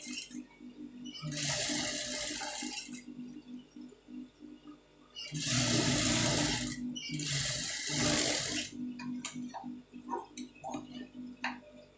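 A sewing machine stitches the joint of a front piece in three close whirring runs separated by brief pauses, with light ticking and handling of cloth between them and no talk.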